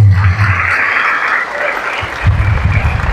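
Worship congregation in Angono, Rizal clapping together, a dense steady burst of applause that eases briefly and then swells again, with no talk over it.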